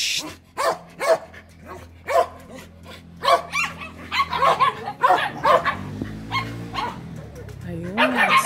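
Several dogs bark repeatedly in a home garden with sponge gourd vines, sharp yips and barks coming in bursts close by, while someone talks and shushes them over the noise.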